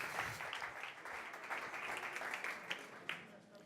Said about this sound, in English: Big applause for Beleran.